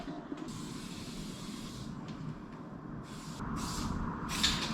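Spray paint can hissing in several bursts as graffiti goes onto the side of a car, the short sprays separated by pauses over a low background rumble.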